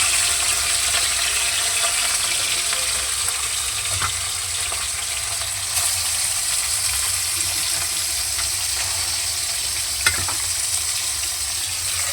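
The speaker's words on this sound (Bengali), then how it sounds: "এখানে আমি আগে মাছটা ভেজে নেবো কড়া বসিয়ে দিয়েছি চলো মাছটা ভেজে নেওয়া যাক" Fish sizzles and fries steadily in a hot wok, a constant close hiss of oil lasting throughout, with a couple of faint clinks partway through.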